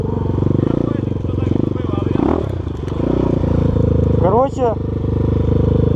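A 2023 KOVI Advance 250 motorcycle pulling away off-road, a loud close engine note rising and dropping with throttle, scraping and clattering over rough ground, with a voice breaking in briefly.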